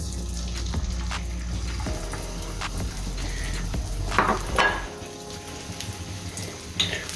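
Beaten egg is poured onto an oiled griddle and starts to sizzle, a steady frying hiss with a low hum beneath and a few soft bubbling pops, close and moderately quiet.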